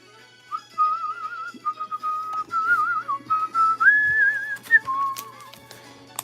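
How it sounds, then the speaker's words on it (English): A person whistles a wandering, wavering tune in a card shop, close and clear with pitch slides and short pauses, over faint background clatter. "Sorry, I shouldn't be whistling."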